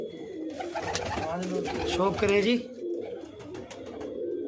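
Pigeons coo continuously inside a keeper's loft, with young birds among them and someone talking over the steady, close cooing.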